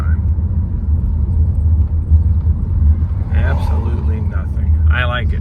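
Chevrolet Malibu with newly replaced front struts rolling along a road, a steady low engine and tire rumble filling the cabin from start to end, with people speaking over it near the close.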